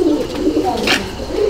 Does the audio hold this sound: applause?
no